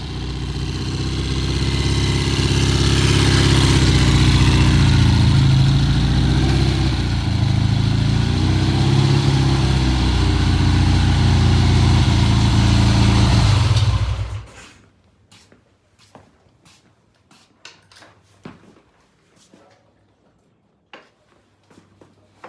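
A Triumph TR6's engine idles steady and loud for about fourteen seconds, a deep low rumble that cuts off abruptly, followed by quiet scattered clicks and faint noises.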